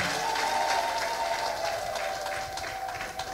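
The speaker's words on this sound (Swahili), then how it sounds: "Tumpe Yesu makofi mazuri tunapokaa." A church congregation at a Moravian service applauds: dense, continuous clapping from a crowd in a reverberant room, holding steady throughout with a faint sustained tone underneath.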